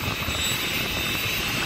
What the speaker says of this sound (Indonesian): di sini kita bisa puas ngeliatin pesawat take off landing tuh